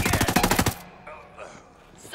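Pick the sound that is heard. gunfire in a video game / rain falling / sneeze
gunfire in a video game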